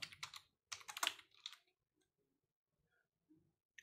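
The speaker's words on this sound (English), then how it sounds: "type your uh, Aadhaar number then type your name as per Aadhaar" Keys tapped on a computer keyboard to enter an Aadhaar number, two quick bursts of close, crisp clicks followed by near silence with a few faint taps.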